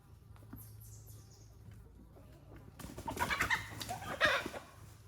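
Chickens cluck in a pasture, starting as faint, sparse calls and chirps, then a busier, louder burst of clucking and squawking in the second half.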